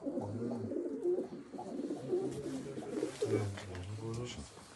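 Messi breed pigeons coo in low, rolling bursts close by, with softer bird chirps and voices talking under and between the calls.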